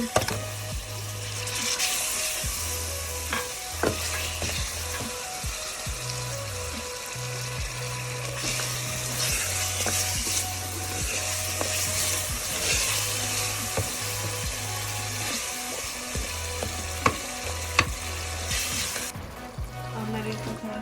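Tomatoes and spices for a Pakistani turnip and meat curry fry in a pan with a low continuous sizzle, a faint steady hum and occasional clicks and clinks of a utensil, with no speech.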